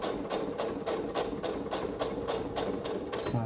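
Sewing machine stitching a small Christmas fabric pouch, running at a steady, even rhythmic chatter close by, alone without speech.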